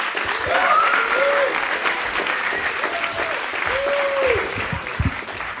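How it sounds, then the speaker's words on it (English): Comedy club audience applauds for the next comic, a steady, full round of clapping that carries on for several seconds with faint vocal sounds mixed in. "And keep the applause going for your next comic, Eric J. Nagurney."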